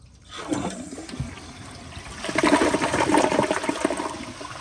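A Kohler Highline round toilet flushes indoors, starting with a click and a short rush, then swelling into a loud, full swirl of draining water that holds steady to the end.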